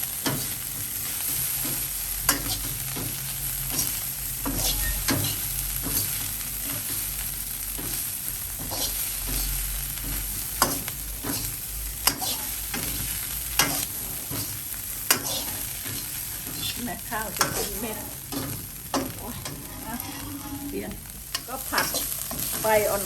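Rice with blanched carrots and salted fish stir-fried in a pan, a continuous sizzle broken by sharp regular scrapes and clacks of the spatula against the pan, close and alone without talk.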